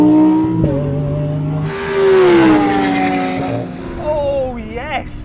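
Lamborghini Aventador SV and Huracan Performante accelerating hard in a drag race, both cars struggling for traction, their engines rising and revving loudly and close up under excited shouting.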